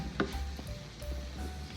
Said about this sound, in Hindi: कुछ मसालों को हमने भून लिया कीमे में